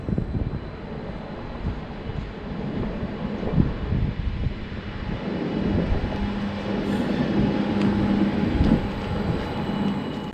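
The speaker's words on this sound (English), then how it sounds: "here we see our train arriving." A Stadler KISS train rumbles steadily into Finsterwalde station, a low continuous roar with a faint tonal whine rising and fading as it rolls in, no voices.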